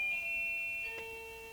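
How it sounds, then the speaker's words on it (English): A doorbell chimes indoors in two clear tones, the first ringing out and then a lower second note sounding near the end, fairly quiet and with no voices. "Somebody rang on my doorbell"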